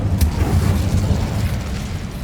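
Incendio fire spell blasts in the Hogwarts Legacy video game, a loud sustained booming roar with crackling bursts and a sharp early pop, dense and continuous throughout with no talking.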